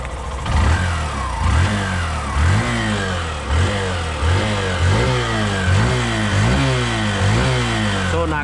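A Hero Passion Pro BS6 motorcycle engine is revved over and over in a steady rhythm of rising and falling throttle blips, loud and close, with no talk.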